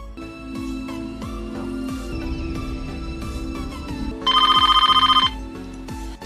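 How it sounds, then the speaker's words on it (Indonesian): A telephone rings in the 1996 horror film Scream, one loud trilling bell burst of about a second, rising over a dense, tense musical score. "si Sydney pun terbangunkan oleh telepon dari seseorang yang meminta si Sydney untuk pergi ke depan rumahnya"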